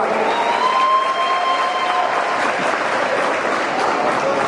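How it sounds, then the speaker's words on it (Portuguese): A crowd at a fight event applauds two women champions with loud, steady, dense clapping and a touch of cheering, sustained without a break. "Salva de palmas para as duas campeãs."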